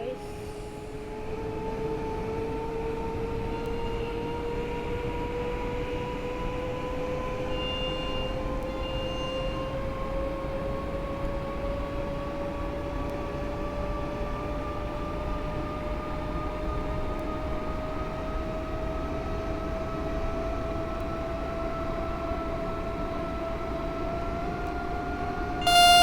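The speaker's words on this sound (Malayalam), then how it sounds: "നമ്മൾ ട്രെയിൻ ഓടിക്കുകയാണ് ഗൈസ്" Train running in the Roblox video game, a steady rumbling roll with a low engine drone that rises slowly in pitch over a long stretch, and no voices.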